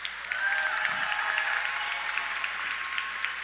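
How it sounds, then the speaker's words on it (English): A graduation ceremony audience gives the graduating students a big round of applause, steady and full-bodied crowd clapping heard close and continuous. A faint tone runs faintly beneath it. "let's give these students a big round of applause"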